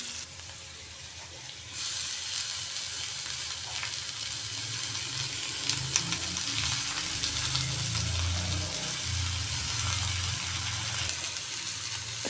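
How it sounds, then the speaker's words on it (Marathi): Dill greens sautéing with browned moong dal and ground masala for shepu bhaji in a pan, a steady close sizzle and fry hiss that grows louder partway through, with faint stirring scrapes. "त्यात आता आपण शेपू घालून घेणार"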